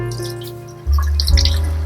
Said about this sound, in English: while I'm pouring the milk in the pot